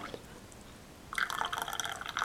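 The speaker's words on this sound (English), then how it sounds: "You like to hear the sound of pouring," Tea poured into a mug starts halfway through, a close, trickling liquid stream after a quiet moment with a faint drip, with the stream continuing to the end.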